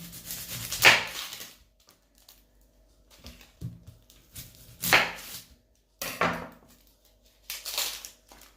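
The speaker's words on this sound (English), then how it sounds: "Okay, so let's cut the onion." An onion cut with a knife on a board, a few separate scraping, crunching strokes with quiet gaps between them, close by, with no speech.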